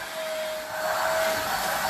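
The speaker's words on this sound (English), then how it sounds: "now just turn the part of the vacuum on that's not brushing" A vacuum cleaner runs steadily with its brush turned off while cleaning a couch, a close, constant whine with a fixed tone.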